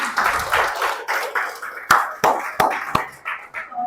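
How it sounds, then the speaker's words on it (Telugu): A class applauds a drawing presentation in a law lecture. Scattered claps come close and uneven, with several sharp individual slaps standing out over a brief burst of clapping. "yeah please clap"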